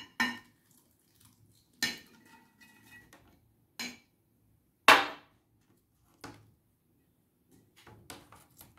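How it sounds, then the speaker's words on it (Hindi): Lemon, green chilies and cabbage are tipped into a bowl for a vinegar pickle, making sharp separate clanks and thuds of pieces and utensils against the dish, about six distinct knocks spaced over several seconds with quiet between, no talking. "और यहाँ डालेंगे हम लेमन और सब्ज़ मिर्च और ये बंद गोभी मैं डाल दूंगी"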